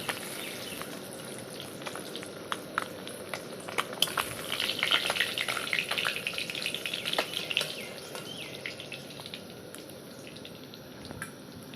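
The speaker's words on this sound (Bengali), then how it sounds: "মাছটাকে ডিপ ফ্রাই করে তুলে নিলাম" Parshe fish deep frying in oil gives a steady crackling sizzle with scattered sharp pops, moderately close and fairly quiet, swelling a little in the middle with no talk.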